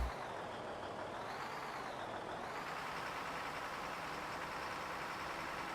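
A small work truck drives in Farming Simulator 15 on a Donegal farm map. Its engine makes a steady, loud, continuous rumble with broadband road noise, and a faint tone shifts in pitch early on. No one talks.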